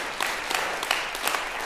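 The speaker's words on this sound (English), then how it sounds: "yeah, that's worth clapping for" Audience at a talk about heaven clapping, a brief, fairly soft patter of applause with a few sharper individual claps standing out.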